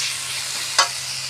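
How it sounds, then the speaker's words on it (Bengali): Chopped tomatoes with turmeric powder being sautéed in a pan make a soft, continuous sizzle and hiss, with one sharp scrape of the spatula midway. "এবারে একটু কষিয়ে নিই, টমেটোটা নরম হয়ে যাক"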